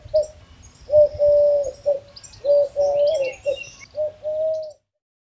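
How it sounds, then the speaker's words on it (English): A dove coos in a series of soft, hooting calls broken into short phrases over about five seconds, clear and close, with faint chirps of other birds behind and some low background rumble. "Dove."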